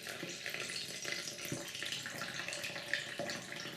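Coffee poured into a can for dyeing paper, a soft trickling and splashing of liquid with a few small clinks, quiet and close.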